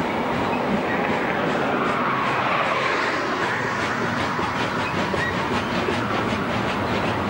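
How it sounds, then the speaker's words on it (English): Freight trains rolling together in a passing siding on a western rail line, a steady, continuous rumble with faint clickety-clack that holds at an even level throughout. "Trains are in the passing siding together."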